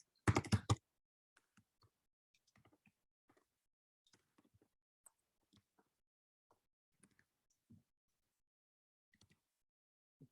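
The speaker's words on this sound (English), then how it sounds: "This keyboard." Computer keyboard typing during a coding session, starting with a loud burst of clicks and then continuing as sparse, quiet key taps scattered through a near-silent room.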